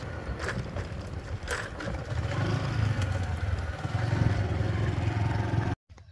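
A motorbike engine drones close by on a ride toward a river bathing spot, its low rumble rising and holding steady before cutting off abruptly near the end, with no talk over it.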